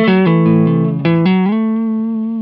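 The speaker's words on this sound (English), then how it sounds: "it turns up your guitar when you're quiet and it turns it down when you're loud, essentially compressing your signal" Clean electric guitar played through a compressor pedal: a few plucked notes with an even, squeezed attack, then a final note sustaining smoothly and ringing out loud with no talk.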